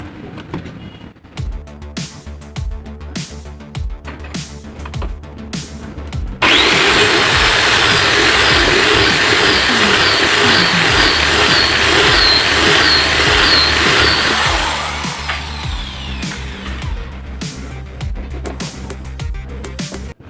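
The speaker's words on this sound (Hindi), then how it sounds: "इसको इस जगह लगाने के लिए हम यहाँ भी एक ड्रिल करेंगे" A power drill whirs loudly and steadily for several seconds while drilling a hole for a solar project build, then winds down into a lower, fading whine.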